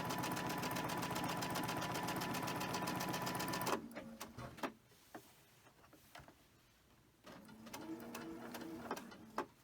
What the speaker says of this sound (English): so let's sew that